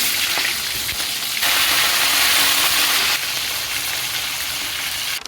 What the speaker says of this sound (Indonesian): sebelum lanjut ke perbumbuannya aku mau goreng ayamnya dulu